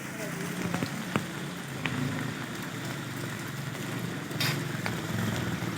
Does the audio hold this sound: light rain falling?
yes